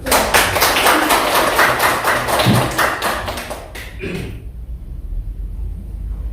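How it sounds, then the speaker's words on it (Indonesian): An audience at a school session on positive culture claps loudly and densely for about four seconds before the sound drops away to a quiet room. "Tepuk tangan."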